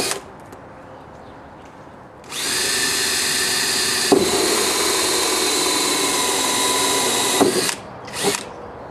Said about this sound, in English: I'm going to go ahead and drill the 2 holes for the drain plug and the spigot